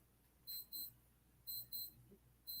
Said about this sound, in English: And somewhere in here, an alarm going off.